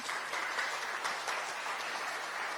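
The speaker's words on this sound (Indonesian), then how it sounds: "Kita berikan tepuk tangan bagi Tuhan." A church congregation applauds during a Christmas celebration. Steady, moderately loud clapping runs without a break through the short stretch.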